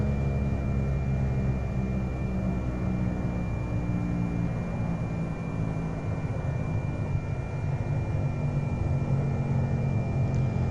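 Steady, unbroken drone of the Carenado C208 aircraft engine in X-Plane 11, a constant loud hum holding level throughout without pauses.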